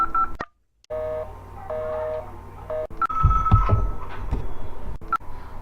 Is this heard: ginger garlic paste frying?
no